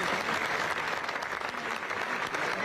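Sustained applause from a mourning crowd at a funeral farewell in Miramar, dense even clapping at a moderate distance filling the whole short stretch without talk.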